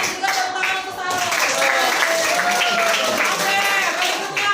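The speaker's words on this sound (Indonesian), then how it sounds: "Tepuk tangan untuk Sultan." A classroom of students claps for a classmate after a group presentation in a maths lesson, the dense clapping rising and staying steady with voices mixed in.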